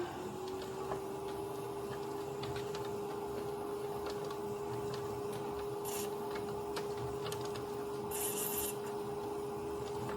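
A white clay pot being trimmed on a spinning potter's wheel, a steady hum with a continuous soft scraping rasp and faint intermittent ticks, close and even throughout.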